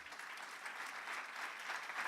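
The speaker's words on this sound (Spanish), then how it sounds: "Dele ese aplauso a Él." Sustained applause from a church congregation during a sermon, a dense, even wash of clapping hands, moderately distant and steady throughout with no speech over it.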